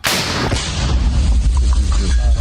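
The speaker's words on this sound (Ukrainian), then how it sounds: "Вони швидко наводяться за координатами та здійснюють постріл" A single powerful mounted grenade launcher blast booms at the start, followed by a long rumbling echo and low ringing that slowly fades.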